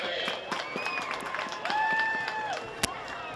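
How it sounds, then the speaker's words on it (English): Scattered crowd clapping in outdoor stands at a high school football game, moderately distant, with a tonal sweep and one sharp knock cutting through partway. "Ladies and gentlemen, please give a great round of applause to Taylor Myers McMahon."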